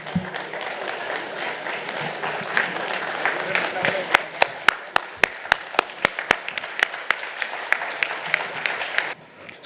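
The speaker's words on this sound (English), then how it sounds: "give a standing ovation and great applause to all these greatest leader of our CMA profession." Standing ovation from a convention audience at the 62nd National Cost and Management Accountants Convention, a dense roar of applause with a crisp run of sharp individual claps emerging near the microphone, ending abruptly, with voices faintly mixed in.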